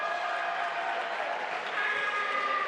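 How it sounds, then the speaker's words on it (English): Crowd at a tournament cheering and applauding for the winner on the tatami, a dense sustained roar of clapping and voices at moderate distance, steady throughout without individual speech. "the cheer you heard was for Thomas Clems from France"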